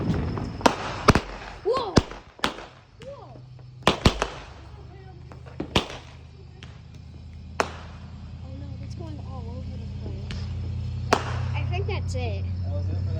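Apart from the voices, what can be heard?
Fourth of July fireworks going off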